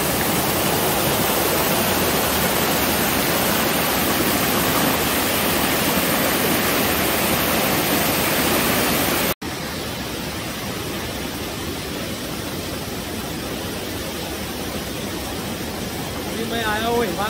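Overflowing lake water pours through a spillway at Himayat Bagh, a loud, continuous roar of rushing water that fills the scene from start to finish, close up, with no pauses.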